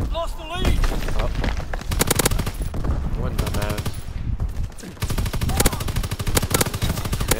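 Gunfire in Call of Duty WW2, with rapid machine-gun bursts and heavier booming shots chattering almost nonstop, loud and close, with a brief lull midway and players talking over the action.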